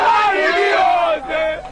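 A crowd of onlookers yelling around a boys' street fight in Bukom, Accra, a loud, close burst of massed shouting and cries that dips briefly before surging again.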